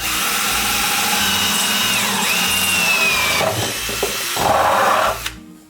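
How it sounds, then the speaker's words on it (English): A power drill with a 5/8-inch bit whines steadily for several seconds as it bores through PVC pipe, its pitch shifting, then winds down and stops near the end. "Using your 5/8 drill bit, we're going to drill right through."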